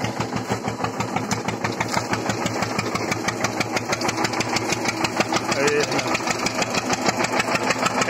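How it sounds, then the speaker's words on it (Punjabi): A 1997 Eicher 242 tractor engine pulls an 11-tine zero drill through a field, its diesel beat a fast, even thumping that runs steadily and loudly for the whole stretch. "ਕਿੰਨਾ ਕੁ ਔਖਾ ਹੁੰਦਾ ਅਤੇ ਕਿੰਨਾ ਕੁ ਧੂੰਆਂ ਮਾਰਦਾ 97 ਮਾਡਲ ਆ ਟਰੈਕਟਰ"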